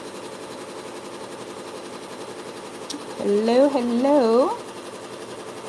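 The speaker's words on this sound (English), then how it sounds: "I'm just finishing up embroidering some boxy bags so I can sew them." An embroidery machine stitching boxy bags gives off a steady, low mechanical drone throughout, and a voice speaks briefly over it.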